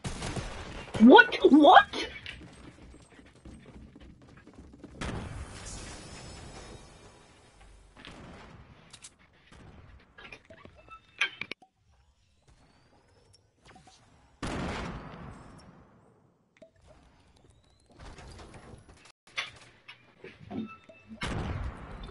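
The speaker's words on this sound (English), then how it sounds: "He's shooting at another person." Bursts of video game gunfire crackle in scattered volleys with silent gaps between, while a player talks and reacts over the shooting.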